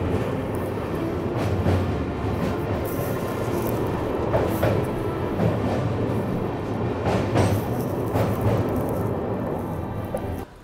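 An Amrit Bharat Express train running on Indian Railways toward Gorakhpur, heard from inside as a steady rumbling roar with rhythmic clickety-clack of wheels over rail joints, continuous and moderately loud.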